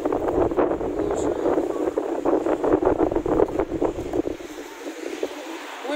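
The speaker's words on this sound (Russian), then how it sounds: "Какой ветрухан поднялся." Strong wind roars across the microphone on a street in Odessa in winter, a loud, steady, gusting rush that fills the whole stretch and eases off slightly near the end.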